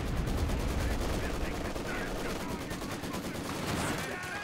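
Mortars and machine guns fire in the Company of Heroes 2 strategy game, a dense, continuous clatter of rapid bursts and thuds at moderate level, with a commentator talking over it.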